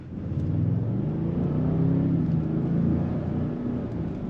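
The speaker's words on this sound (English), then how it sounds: "It's almost like you hear a bit more engine sound as well." A 2025 Lincoln Navigator Black Label's EcoBoost engine rumbles and builds steadily as it accelerates, a smooth low drone heard from inside the SUV, with no one talking.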